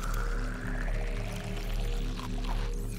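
Drinking water in the Subnautica video game, a continuous gulping, liquid pour effect up close, steady and fairly loud over a low rhythmic underwater hum.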